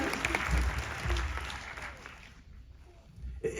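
Audience applause in a live setting, clapping that starts moderately loud and fades out over a few seconds, with faint sounds after it dies down.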